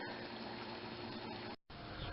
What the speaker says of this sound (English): The water is currently boiling, and the temperature reads 212 degrees Fahrenheit